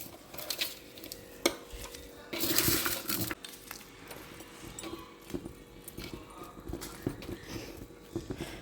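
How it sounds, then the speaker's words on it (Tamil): Hands mix salt and turmeric into chopped onions, making soft, uneven squishing and rustling with scattered clicks and a louder burst partway through, close and fairly quiet. "நல்லா உப்பு மஞ்சத்தூளும் நல்லா மிக்ஸ் ஆகிற மாதிரி நல்லா கலந்து விட்டுட்டு நம்ம அழுத்தி வச்சுக்கணும்."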